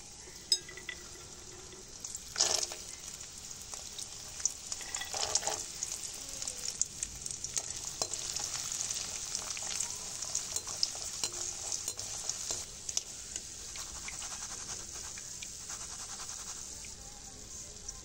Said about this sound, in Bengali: এবারে বাদাম ভেজে নেব।